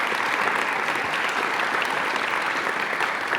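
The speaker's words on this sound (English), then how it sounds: "If you guys could give them a round of applause" Audience applause for the advisors at the Oliver Ames National Honor Society induction ceremony: a dense, steady wash of many hands clapping, sustained evenly throughout with no talking.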